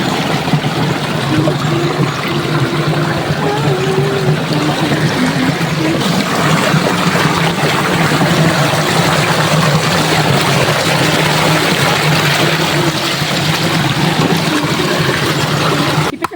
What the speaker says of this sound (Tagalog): Yan nga nga, guys, yung mga yung ilog